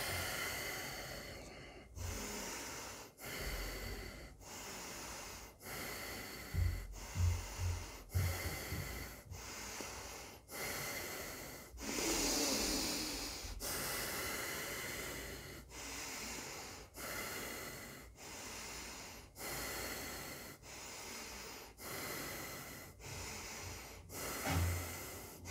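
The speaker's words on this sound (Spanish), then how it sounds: "Y ahí se han completado las 20 respiraciones." A series of about twenty deep breaths taken one after another during a breathing exercise, each a loud, close rush of air in a steady rhythm, with no talking.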